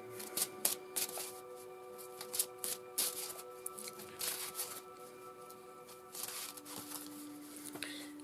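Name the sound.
shuffling a deck of cards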